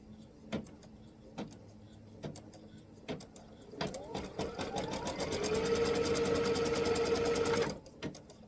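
Sewing machine stitching a quilt block piece on stabilizer, starting with a few separate clicks, then a steady continuous run of stitching with a rising whine that stops abruptly near the end.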